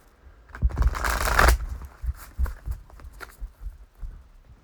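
Tarot cards are shuffled by hand in a rapid riffling burst, followed by softer scattered card taps and slides, close and fairly quiet, with no talk.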